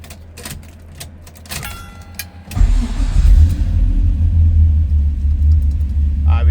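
A 1970 Chevrolet Nova with fuel injection cranks briefly and fires up, settling into a loud, steady, deep idle that rumbles on to the end, after some light clicks and handling noises at the start.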